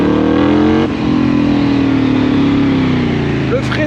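A loud BMW GS 1250 motorcycle engine revs up close, its steady roar sliding gradually lower as the revs fall away.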